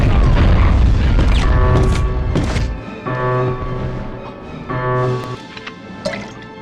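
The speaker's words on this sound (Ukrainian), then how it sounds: "Встановлюємо сюди вибухівку і тікаємо." Planted explosives go off in the 1999 Medal of Honor video game: a heavy, loud booming blast that rumbles and fades over a few seconds, followed by quieter game tones and clunks.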